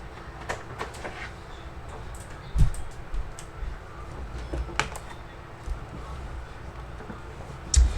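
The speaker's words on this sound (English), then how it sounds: "this is low profile mechanical keyboard" Keys clack on a low profile mechanical keyboard, a steady patter of light taps with a few louder, sharper strikes standing out, close and clear with no talking.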